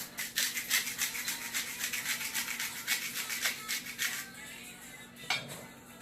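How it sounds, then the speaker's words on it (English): Himalayan pink salt being ground in a hand grinder, a rapid, steady run of dry gritty crunching for several seconds, close up and fairly soft, easing off toward the end with a brief clink. "I have the Himalayan pink salt here in a grinder"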